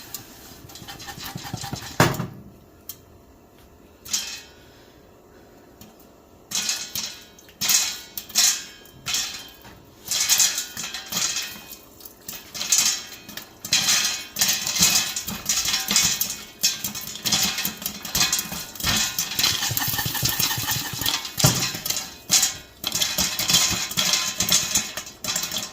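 Kernels crackle and pop in a covered pot on a stovetop, and the shaken pot adds a steady metallic rattle. Sparse pops at first build into a dense, continuous clatter.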